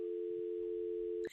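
A telephone dial tone hums as one steady, unbroken note after a hang-up, then cuts off abruptly with a brief click at the end.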